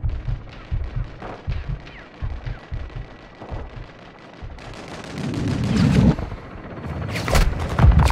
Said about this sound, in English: Weapons hot for gun run.